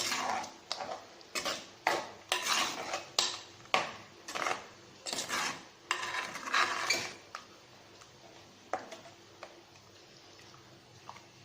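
A spoon stirs a vegetable masala curry in a pot, making a run of quick, rhythmic clanks and scrapes against the metal. The strokes come close and fairly loud, then thin out into a few scattered taps.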